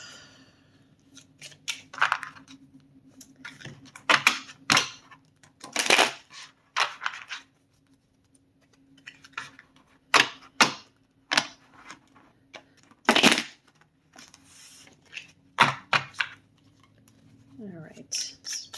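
Oracle cards being shuffled by hand, a long run of crisp riffling and snapping bursts in uneven clusters, close and fairly quiet, with soft handling noises between them.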